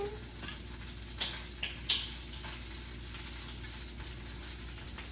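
Steak frying in a pan with soy sauce and sake, a steady close sizzle with a few louder spatters and utensil clicks early on, no talk.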